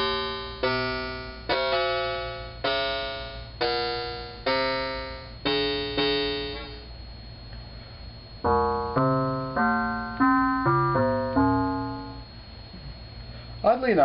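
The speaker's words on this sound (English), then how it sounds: "it has this neat sort of semi-electronic bell or gong tone to it, I think." Bell-like tones from a Synthesizers.com modular synth patch played with an EWI wind controller: a slow series of ringing, harmonically rich strikes, then a quicker run of lower, gong-like notes with a steady hum beneath, moderately loud and close.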